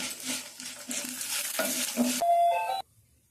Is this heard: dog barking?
no